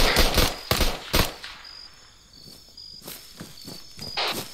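Gunfire from the military shooter game Arma 3 rings out in sharp bursts and single cracks, loud and close, with quieter pauses in between. A high electronic tone comes and goes alongside the shots.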